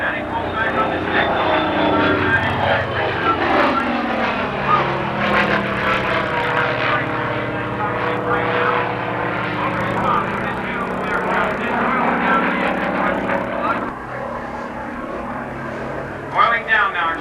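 A propeller warbird roars in low and close on a strafing pass at a 1987 Confederate Air Force airshow in Harlingen, its loud engine drone swelling and sweeping in pitch as it passes, with an announcer talking over it.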